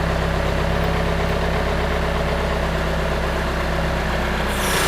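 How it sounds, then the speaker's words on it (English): Excavator diesel engine idling steadily at a Detroit Series 60 in-frame rebuild while the engine head is lifted, producing a loud, constant low rumble close by with no speech. "I'm gonna swing the excavator around the top over here"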